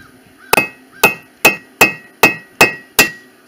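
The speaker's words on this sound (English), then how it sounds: "Take yourself a hammer." Seven sharp, evenly spaced hammer blows ring out close up as metal gripped in vice grips is peened on an anvil, each strike leaving a brief metallic ring.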